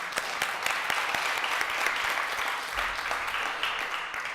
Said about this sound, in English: I think that deserves a hand clap.